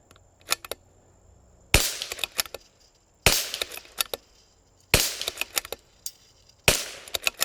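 Four sharp .22LR rifle shots from a CZ 457 with an 18-power scope, spaced about a second and a half apart, each a crisp crack with a short tail, with fainter clicks and knocks of target hits and handling between them.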